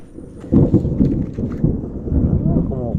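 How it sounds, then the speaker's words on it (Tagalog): Thunder rolls overhead as a deep, loud, drawn-out rumble during an outdoor planting day, with a voice briefly audible near the end. "kumukulog."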